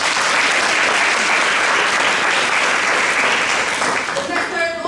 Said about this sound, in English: I would still like to round of applause for her